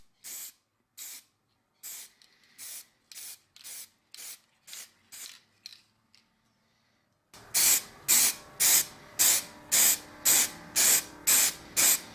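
Aerosol can spraying matte black and then clear coat onto an axe, short rhythmic bursts of hiss, about a dozen quieter puffs followed by a louder, closer series of evenly spaced sprays after a brief pause.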